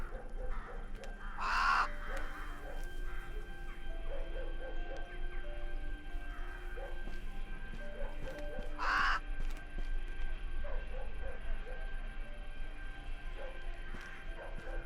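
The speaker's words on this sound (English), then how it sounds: "Hello, crow." Two separate caws from a crow in the horror survival game DarKnot, spaced several seconds apart over a low ambient hum, clear and fairly close.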